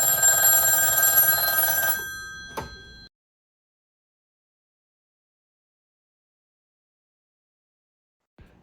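An antique wall telephone's bell rings loudly for about two seconds through a cell2Jack Bluetooth adapter, then fades, followed by a brief knock and long silence with a faint click near the end.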